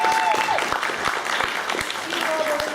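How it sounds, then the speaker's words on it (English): Audience applause at a convention stage panel, a steady burst of clapping from a crowd lasting the whole moment, fairly loud and close, with a host's voice briefly audible over it. "Big round of applause."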